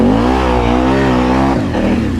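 An off-road truck engine revs hard in a muddy backyard mud hole, a loud, close, sustained roar whose pitch climbs and then dips as the throttle changes.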